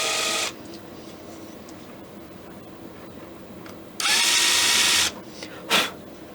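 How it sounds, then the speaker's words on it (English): Short bursts of a small power drill with a countersink bit cutting into the metal nose cap of a Kibler colonial flintlock kit: a whine at the start, a longer second-long run later, then a brief final spurt. "I'm going to put in a little countersink bit just to give a space for the head of the nail"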